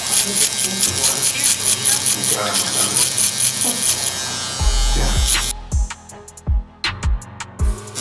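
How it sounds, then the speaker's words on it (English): A Stylecraft Uno 2.0 single foil electric shaver buzzes loudly and close as it cuts through thick hair, with someone talking over it before the motor gives way to short tapping bursts. "I know this is a big area to be broadened out with a single foil shaver, but you see it's working though"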